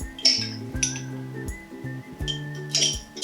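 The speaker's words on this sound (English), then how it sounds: "We'll put some ice cubes in the mason jar" Ice cubes clink and rattle into a glass jar in several quick drops, bright close-up clinks over a faint background hum.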